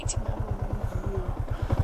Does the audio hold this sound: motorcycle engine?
yes